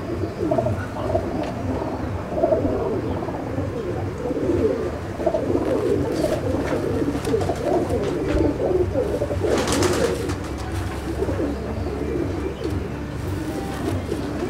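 Chennai breed pigeons in a loft coo steadily in overlapping low, rolling calls, close and fairly loud, with a few sharper wing or movement sounds mixed in.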